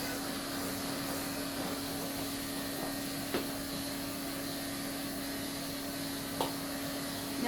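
Electric clipper buzzing steadily close up while blending a dog's coat during grooming, a constant motor whine with faint clicks and small bumps, no talking.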